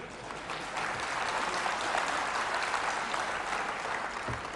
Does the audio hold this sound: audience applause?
yes